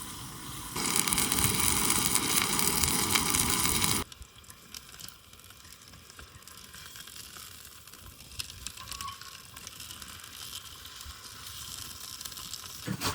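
A steak sizzles in a pan at a camp on a remote frozen lake. A loud, hissing sizzle runs for a few seconds, then drops to a softer, steady crackle that continues to the end.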